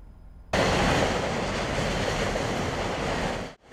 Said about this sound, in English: Trains passing by is a familiar sound to Larry Bell.